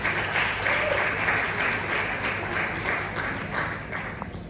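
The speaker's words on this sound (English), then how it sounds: "So please, a round of applause for the organizers of this event." Sustained applause from an audience at a speaking event, honoring the event organizers: dense, steady clapping that fills the room at an even loudness for several seconds, then gradually thins toward the end, with no talking over it.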